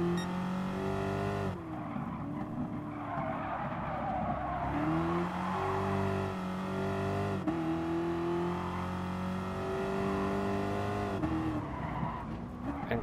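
A Gran Turismo Sport safety car accelerates hard through repeated gear changes, its engine note climbing in pitch then dropping at each shift, with tire squeal mixed in, loud and continuous with no talk.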